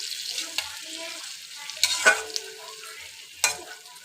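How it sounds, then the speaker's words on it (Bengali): Potatoes frying in a pan as a home cook prepares a spicy egg and paneer dish, giving a soft steady sizzle with a few brief stirring scrapes and clinks, close and without talk. "এবার আমি আলুটা ভেজে নেব।"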